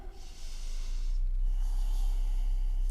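Audible breaths drawn through the nose during a gentle sunrise yoga forward fold, a couple of soft close inhales and exhales over a low steady background hum.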